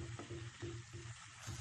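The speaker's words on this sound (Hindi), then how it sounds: "1 से 2 मिनट के लिए इन मसालों के साथ बैंगन को हम भून लेते हैं।" Eggplant frying with spices in a pan over medium-high flame, a soft continuous sizzle with faint rhythmic stirring scrapes.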